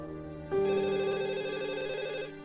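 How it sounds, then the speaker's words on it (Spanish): A telephone rings in a tense thriller scene, a steady electronic ring with bright, stacked tones holding for nearly two seconds after a quiet start, close and clear with no talk over it. "Perdóname, vamos, coge el teléfono."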